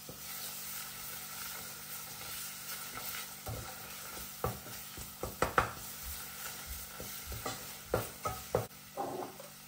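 Ingredients for arabaşı soup with tomato paste sauté in a pan, a soft low sizzle joined by a run of sharper spoon scrapes and stirring knocks that grow busier toward the end, quiet and close, no speech.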